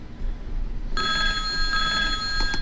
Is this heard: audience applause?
no